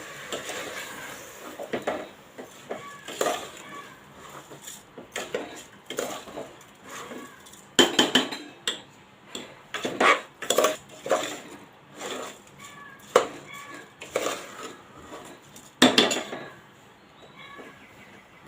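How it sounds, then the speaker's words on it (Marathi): Washed rice stirred into a pot for pea pulao, a spoon scraping and clinking against metal in irregular bursts, close and fairly loud, continuing for a while without talk. "त्याच्यामध्ये आपण जे तांदूळ धुवून ठेवले होते ते घालणार आहोत मिक्स करून घेऊया तांदूळ"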